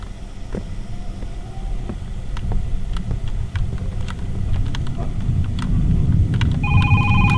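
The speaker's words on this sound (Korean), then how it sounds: "아, 또 전화 온다." A telephone rings in a horror video game, with faint ring bursts over a steady low rumbling ambience and a clear electronic ringing tone arriving near the end.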